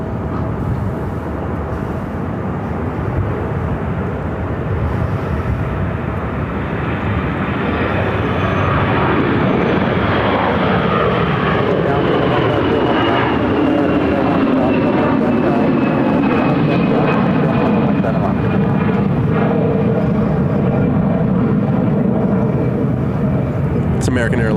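Airliner jet engines spooling up and roaring on takeoff at Phoenix airport, a loud sustained rumble that swells and shifts pitch as the aircraft rolls away.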